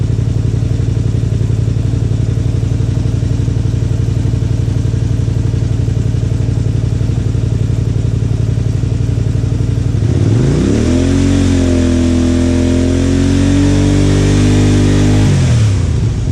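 A Honda Spada motorcycle under restoration idles loud and steady close by, then its engine is revved, rising in pitch, holding high for a few seconds and dropping back toward idle.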